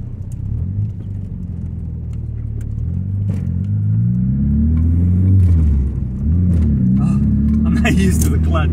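A Volkswagen Golf MK2 GTI with a manual clutch accelerates hard, its engine note climbing and dropping through rising revs and gear changes, loud and close from inside the car.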